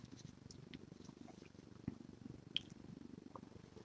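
A pet cat purring steadily up close, a soft continuous low rumble with a few faint clicks and small noises over it.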